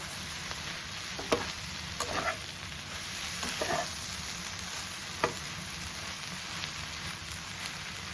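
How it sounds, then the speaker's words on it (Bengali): Bread pieces tossed with masala and chopped coriander in a hot pan, a soft steady sizzle broken by a few scattered spoon scrapes, close and quiet. "মশলাগুলোর মধ্যে ব্রেডের টুকরোগুলো দিয়ে আমি খুব ভালোভাবে মিশিয়ে নিয়েছি।"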